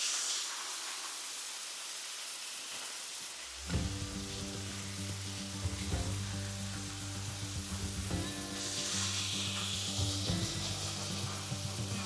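Pork chops sizzle and hiss steadily on a hot grill after a flip, a continuous frying crackle joined by a brief clunk partway through and faint mechanical ticks, with no talking.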